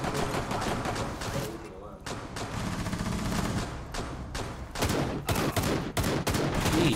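Rapid automatic gunfire in the Rainbow Six: Siege beta on the House map, dense continuous bursts with brief pauses, loud and close, with voices talking over the shooting.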